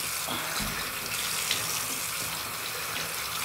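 A tap runs steadily into a sink during an evening wash, a close, continuous splash and hiss with no talk over it.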